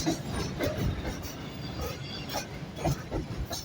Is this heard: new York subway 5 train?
yes